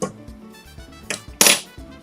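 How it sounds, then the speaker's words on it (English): A spoon stirs light brown sugar into an orange and lemon juice mixture, giving a few sharp clinks and taps against the container, with one louder scraping clatter partway through; no voices. "Make sure you stir it all."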